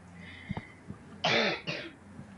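Two harsh, close coughs in quick succession, preceded by a few soft clicks and breaths.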